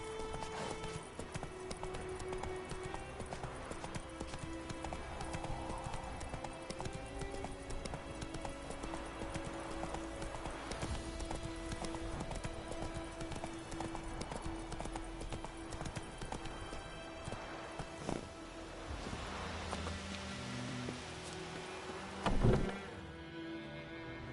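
A horse gallops in Witcher 3 with a continuous clip-clop of hooves over a steady bed of game music and ambience, and a brief louder thump comes near the end.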